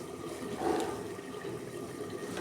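Tap water runs steadily at close range while chopped jute leaves are rinsed, a continuous, faint, even splashing rush with no voices.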